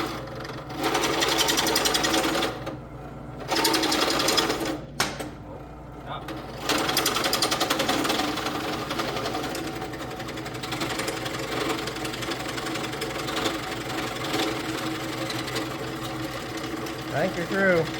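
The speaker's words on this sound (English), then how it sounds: "Drilling holes?" A loud, steady power drill whirring and buzzing at close range, drilling holes to fit U-bolts for a lift kit on a 2001 Ram 2500 4x4 pickup, pausing briefly a few times before running on continuously.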